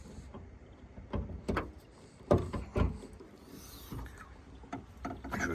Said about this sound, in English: This is the automatic hood opener, which then has a secondary safety device.